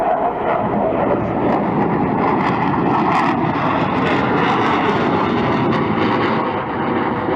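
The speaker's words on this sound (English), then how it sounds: "Here we see the dirty pass, has the gear down, power's coming on though to balance the drag" A Panavia Tornado jet makes a slow display pass with gear down and flaps extended, its engine roar loud and sustained throughout, with rumbling, wind-buffeted texture.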